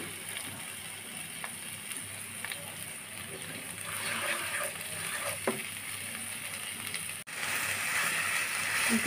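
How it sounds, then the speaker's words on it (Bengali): Mung dal frying in a pan for a Malabar spinach chorchori: a soft, steady sizzle with scattered clicks and scrapes of stirring, and one sudden brief dropout partway through. "এর মধ্যে আমি মুগ ডালগুলো দিয়ে ভেজে নেব।"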